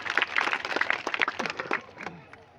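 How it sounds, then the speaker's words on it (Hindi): Applause from women and men gathered at a village panchayat assembly in Chanderi, a dense run of crowd clapping rising and thinning over a couple of seconds before fading out. "इन सब के लिए एक बार जोरदार तालियां हो जाए"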